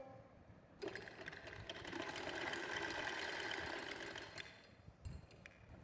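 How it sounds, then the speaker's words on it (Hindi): A sewing machine runs a steady stitching line along the lace edge of a small girl's frock, starting abruptly and humming continuously for several seconds before stopping, close and fairly loud with no talk. "सिलाई लगाते जा रहे हैं, इसके ऊपर बिल्कुल किनारे से"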